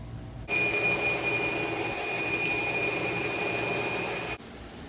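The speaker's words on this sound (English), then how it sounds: "We'll probably do it on the bandsaw since it's very small." A bandsaw whines loudly and steadily for about four seconds, cutting a small trim piece for a 1988 NASCAR Buick Regal race car, starting and stopping abruptly with a bright sustained tone and no talk.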